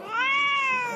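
A pet cat gives a single clear, drawn-out meow, close and fairly loud, with no talk over it.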